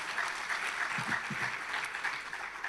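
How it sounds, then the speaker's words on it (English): Steady round of applause from guests at the Kruger Centenary gala dinner for the DFFE team, many hands clapping together at a fairly close, even level throughout. "I want you to give a round of applause to all of them."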